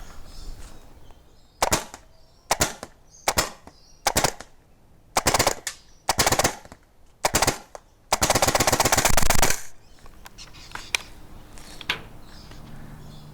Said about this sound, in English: And last of all, just some mag dumps.